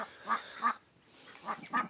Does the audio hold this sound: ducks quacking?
yes